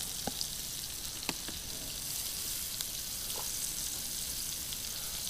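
Vegetables fry in warmed oil and butter in a pan while cooking at camp. The sizzle is soft and steady, with a few small pops and clicks and no talking.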